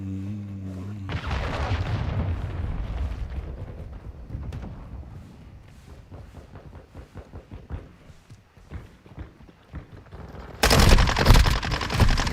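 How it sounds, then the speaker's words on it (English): In Call of Duty Modern Warfare II, a cruise missile strike hits after a stretch of rattling automatic gunfire, ending in a sudden loud, broad roaring blast during the last couple of seconds. "Hostile cruise missile incoming."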